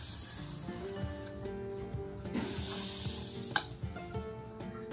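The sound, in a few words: hot oil poured into semolina, sizzling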